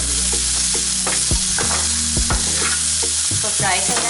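Vegetables for a veg Kabuli pulao fry in a pan with a loud, steady sizzle, broken by spoon scrapes and stirring knocks, and no talking.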